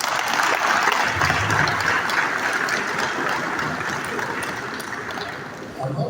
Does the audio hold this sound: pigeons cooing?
no